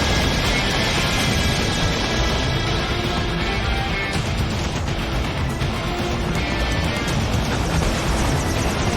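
Helicopter in the Metal Gear Rising video game, a dense, steady roar of rotor and engine noise with crashing game effects, loud and continuous throughout.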